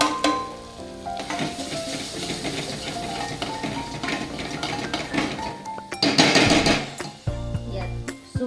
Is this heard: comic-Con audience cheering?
no